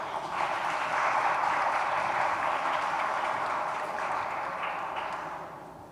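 Audience applause at a women's meeting on access to justice, a steady, moderately distant patter of many hands that swells early, holds, then tapers off at the end.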